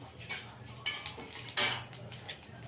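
Black cumin seeds with dried red chillies stirred in a pan with a metal utensil, a series of sharp scraping clinks in an irregular rhythm over a faint low hum, close and fairly quiet.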